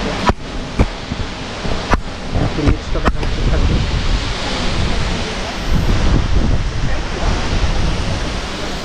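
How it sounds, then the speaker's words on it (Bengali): A waterfall at Lauterbrunnen, Switzerland roars as a broad, loud, steady rush of falling water, with wind buffeting the microphone and a few sharp knocks early on. "ঝর্ণার সুন্দর শব্দ"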